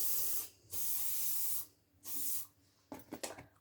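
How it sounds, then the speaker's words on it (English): Two bursts of aerosol hairspray hiss, each about a second long, followed by a few soft clicks and rustles. "And then a quick spray."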